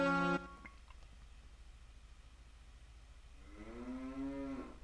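Cow mooing in the video game The Legend of Zelda: Majora's Mask, a short low moo at the start, then a quiet pause, then a longer drawn-out moo, no voices.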